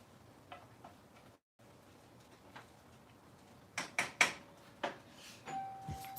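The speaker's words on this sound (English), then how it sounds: "I heard my doorbell." A handful of sharp chiming tones ring out in quick succession against a quiet room hum, followed by a faint sustained tone.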